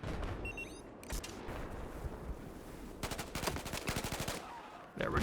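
Bursts of automatic gunfire from a gun in the video game Battlefield 4, rapid rattling volleys in several clusters over a low rumbling ambience, fairly close and punchy.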